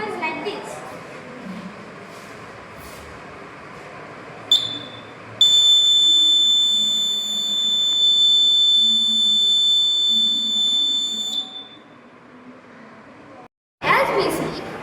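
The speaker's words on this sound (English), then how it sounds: "the Arduino turns on the buzzer to indicate rain" An Arduino rain detector's buzzer sounds a steady, piercing high-pitched tone for several seconds before cutting off, with low room noise beneath it.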